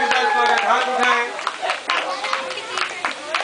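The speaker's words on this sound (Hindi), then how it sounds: "तालियों के साथ स्वागत" Hands clap at a school drama performance as the performers are welcomed, scattered and uneven clapping with people talking over it, louder at first and then thinning out.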